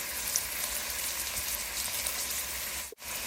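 Chopped mustard greens (saag) sizzle in a hot pan, a steady soft crackling hiss with no talk, briefly dipping near the end.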